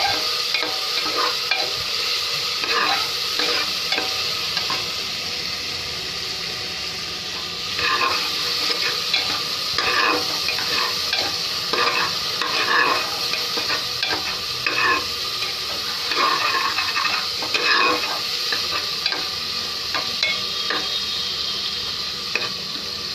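Vegetables and tomatoes stir-frying in hot oil for veg pulao, a steady loud sizzle with repeated scraping stirs of a spatula in the pan, close up and without talk.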